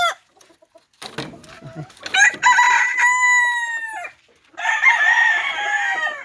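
A free-roaming wild junglefowl rooster (labuyo) crows loudly and close by in a long, drawn-out call, followed after a short pause by a second crow, with faint clucks and rustling beforehand.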